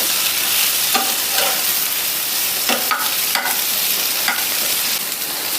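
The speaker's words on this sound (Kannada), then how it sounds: "ಇಲ್ಲಿ ಟೊಮೊಟೊ ಸ್ವಲ್ಪನೇ ಬೇಯ್ತಾ ಸಿಪ್ಪೆ ಬಿಟ್ಕೊಳ್ತಿದೆ. ಸೊ ಈ ರೀತಿಯಾಗಿ ನಾವು ಸ್ವಲ್ಪ ಎಣ್ಣೆಯಲ್ಲಿ ಹುರ್ಕೊಬೇಕು" Tomatoes frying in a little oil for a South Indian broiler chicken sambar, a steady loud sizzle with intermittent scraping stirs over the top, close and continuous.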